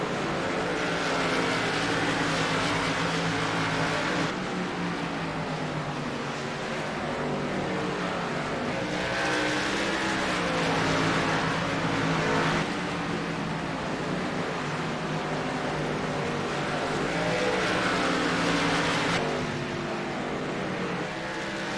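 Race cars lap Bristol's short oval in a racing video game, a continuous loud engine roar that rises and falls in long sweeping waves as the pack circles, no voices.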